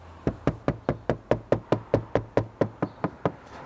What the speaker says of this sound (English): If you don't have any nails, you might just want to have a tap, see what you can find.